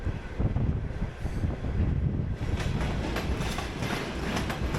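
Former Latvian night train nearing Karaganda station in Kazakhstan, a rolling rumble of wheels with faint rhythmic clacking, heard from on board with wind buffeting the microphone.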